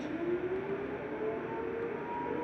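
A steady, faint tornado siren drones on continuously with a slowly shifting pitch, distant and washed in broad background noise.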